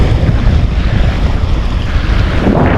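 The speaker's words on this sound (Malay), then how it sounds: "Cuaca sudah mulai berangin teman-teman." Steady, loud wind roars across open water during an ajing fishing trip in murky conditions, a continuous broadband rush with gusty buffeting on the microphone and the wash of waves beneath, no speech.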